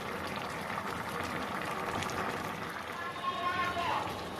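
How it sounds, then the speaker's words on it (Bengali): Snake gourd and shrimp curry bubbles in a pot, a dense continuous simmering hiss and faint popping, while someone talks over it. "দেখুন তরকারিটা ফুটে গেছে"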